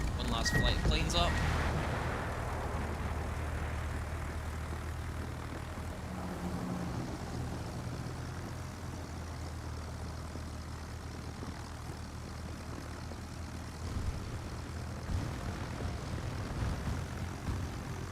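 Propeller aircraft engines droning in the naval battle video game World of Warships, a steady airplane hum under someone talking, with a brief sharper burst near the start.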